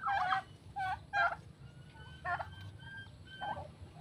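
Domestic turkeys being moved to an outdoor range area on a small poultry farm gobble in several bursts, loud and close at first, then a few quieter calls follow over a low background rumble.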